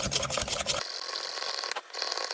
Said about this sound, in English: So I'll go ahead with a manual drill.